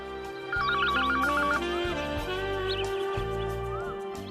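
A mobile phone ringtone plays as a warbling electronic trill inside a bright synth melody, loud and continuous behind a film scene.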